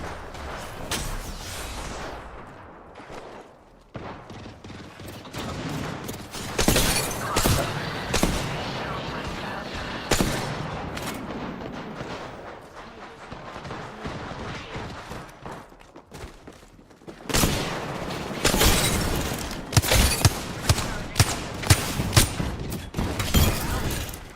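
Smart bullets fired in Apex Legends, dense bursts of rapid gunfire with sharp cracks and thuds, loud and close, rising and falling across the stretch with game voice lines between.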